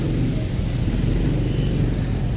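Sriwijaya 008 bus pulling away on departure, a steady loud diesel engine rumble with low droning tone throughout, no pauses.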